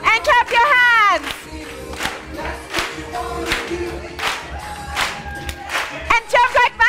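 An audience clapping their hands at a forgiveness-themed talk, with scattered claps mixed under loud voices, shouts and cheering from the crowd.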